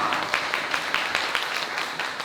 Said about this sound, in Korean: 여러분 두 분 큰 박수로 환영해 주시기 바라겠습니다.